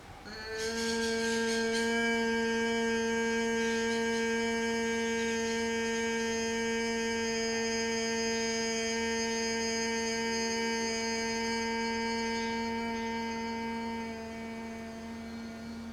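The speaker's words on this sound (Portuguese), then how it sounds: "E aí expira fazendo o som de M." A person hums a steady closed-mouth "mmm" tone on one long exhale during a breathing exercise, close and even, sustained for over ten seconds before tapering slightly.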